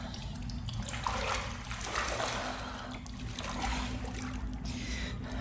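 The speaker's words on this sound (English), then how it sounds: "This game has good atmosphere, has to do a lot with water" Running water in Fatal Frame 5, a steady trickling and splashing wash heard over a low droning hum, continuous and fairly close throughout.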